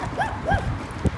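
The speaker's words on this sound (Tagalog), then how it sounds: "Ayun po yung bantay ni Gerard, aso niya. Tumatahol-tahol." A guard dog at a home barks two or three sharp, rising-and-falling barks at close range, with faint background noise and no one speaking.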